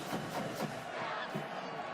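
A dense, steady roar rises from a stadium crowd at a 2013 Texas at Baylor college football game, swelling slightly in places and filling the whole moment without a break.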